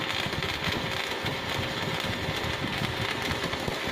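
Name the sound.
Ingco 320 amp welding machine welding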